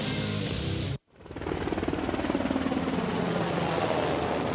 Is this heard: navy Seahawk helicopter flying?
yes